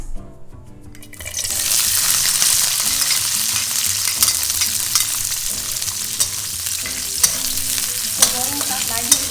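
Cucumber frying in hot oil for acar kuning gives a loud, steady sizzle with stirring throughout, starting after a brief quiet moment; no one talks.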